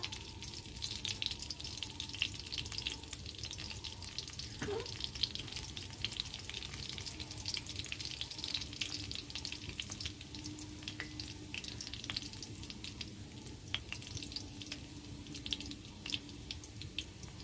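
Dried red chillies frying in a pan with green chillies give a continuous crackling sizzle with scattered pops and spits throughout, fairly close and uninterrupted.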